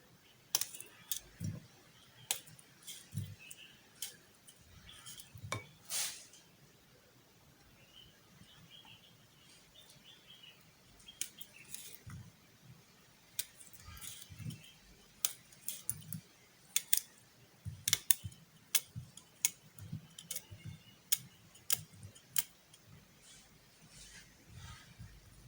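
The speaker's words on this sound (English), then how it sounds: "So right now we are going to cut the aloe vera into tiny" Aloe vera leaf cut into tiny pieces on a table: a steady series of soft, crisp knife cuts and clicks, faint and close, with short pauses between bursts and no talking.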